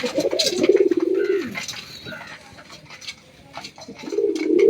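Pet pigeons kept at home coo in repeated low, throaty rolls, close and loud, with short pauses between calls and a few faint chirps in the background.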